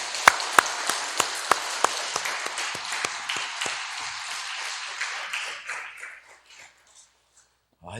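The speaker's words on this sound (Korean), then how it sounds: "잘해달라고 격려의 박수." A congregation at a church Sunday worship service applauds together, loud, dense clapping with a few sharp claps up front, gradually thinning and fading to silence.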